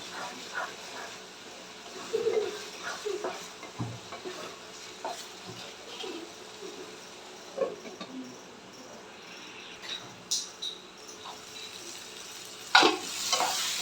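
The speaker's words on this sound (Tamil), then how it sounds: "அப்பப்போ எடுத்து கலரி விட்டுட்டே இருங்க, இல்லைன்னா அடி பிடிச்சிடும்." Mushroom pepper fry being stirred in a pan, with soft scraping and stirring strokes and faint sizzling at moderate distance, occasional louder clinks near the end, no talk.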